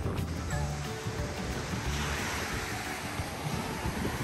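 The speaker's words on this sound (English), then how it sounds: "We're going to go see the waves." Ocean waves wash onto a beach in a steady, continuous roar of surf, with gusty wind buffeting the microphone throughout.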